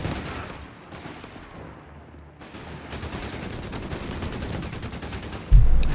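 Machine gun fire from .50 cal weapons in the strategy game Company of Heroes 3, a steady rattling stream of distant gunfire with a sharp louder burst at the end.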